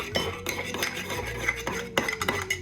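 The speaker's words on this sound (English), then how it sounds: "And then the next one is 1 egg. Kind of like beat that in there, mix it." A fork or spoon whisks an egg into pumpkin protein mug cake batter, with quick clinking and scraping strokes against the mug that repeat in short uneven bursts, close and fairly loud, with no talking.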